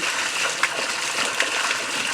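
Water poured and splashing over the body while bathing outdoors in a forest, a steady broadband gush with a couple of brief splashes, close and fairly loud, no talking.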